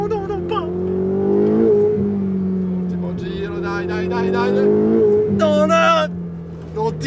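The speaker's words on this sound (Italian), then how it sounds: "Ma quanto cazzo accelera?" A Ferrari accelerating on a race track, its engine note droning and rising through gears with steady harmonic whine; a person shouts excitedly over it near the end.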